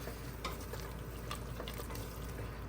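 Ground masala of whole spices, coconut and coriander being stirred into Maharashtrian rice in a pot, a soft, steady scraping and shuffling with faint sizzle, quiet and continuous with no talk.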